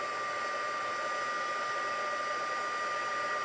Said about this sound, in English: probably 30 seconds for the heat tool to get going at the right temperature, and then the heat embossing is very quick